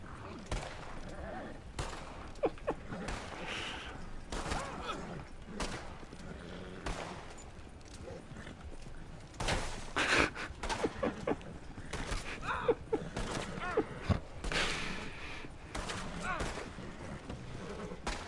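Close-range gunfight in the Western game Red Dead, with two shooters exchanging fire from cover only a few feet apart; sharp repeated shots crack in irregular bursts over a busy game soundscape, with a horse whinnying faintly and speech mixed in.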